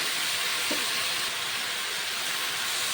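Mixed winter vegetables frying and being stirred in a pan with green chillies, giving a loud, steady hiss with a brief soft scrape partway through.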